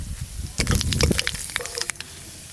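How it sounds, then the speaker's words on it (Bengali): Dry red chilli and nigella seeds hit hot mustard oil in a wok with a burst of crackling sizzle, loud at first and then thinning to scattered pops. "ফোড়নে দেবো একটা শুকনো লঙ্কা আর দেবো কালো জিরে।"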